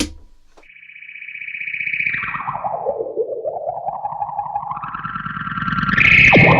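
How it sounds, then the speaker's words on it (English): An electric guitar rings through a reverb pedal with heavy effects, a sustained tone that swoops down and climbs back up with wobbling, echoing distortion, loud and alone, swelling at the end. "that's a reverb pedal"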